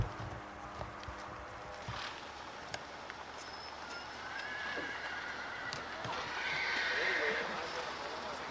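Horse being groomed on a farm, heard amid rustling and soft clip-clop of hooves, with a faint whinny and muffled movement nearby, and a voice murmuring in the background.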